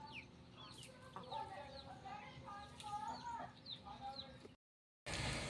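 Hitler breed chickens and a rooster cluck repeatedly at moderate distance, a busy farmyard chatter with occasional voices, cut by a brief silence before a burst of noise.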